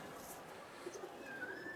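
Pakistani pigeons in a loft give a faint, brief low coo near the middle, set against a quiet, airy room background.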